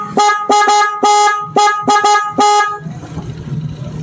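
A Honda Vario 150 scooter horn sounds in five loud, short honks, the last slightly longer, then stops, leaving quiet background noise.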